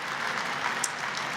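Applause from a conference audience for a group of speakers at a regenerative leadership session, a steady, even wash of clapping that holds at one level from start to finish.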